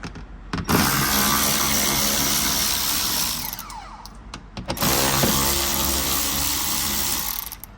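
Power tool spinning out 10 millimeter bolts on the fender liner of a G87 BMW M2, two loud whirring ratchet bursts with a short pause between, up close with no voices.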